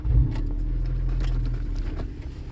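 A hatchback's engine cranks and starts with the car left in first gear, then settles into a low steady rumble with a few faint clicks and rattles close by.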